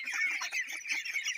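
Several ducks of the Kalaring (Khaki Campbell) kind call in a dense, continuous chorus of nasal honks and quacks, close and steady with no talking.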